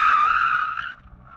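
Golf MK4 GTI drifting with a short, sharp tire squeal that fades out after about a second, leaving a faint low engine hum.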